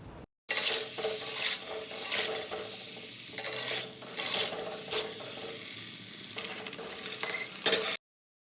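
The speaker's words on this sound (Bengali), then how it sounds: "ডিমগুলির উপরে একটু হলুদ দিয়ে দেব, একটু লবণ দিয়ে দেব, দিয়ে ডিমগুলিকে ভালো করে ভেজে নেব" Eggs seasoned with turmeric and salt fry in a wok for egg curry, a continuous crackling sizzle with intermittent scraping stirs, starting and stopping abruptly.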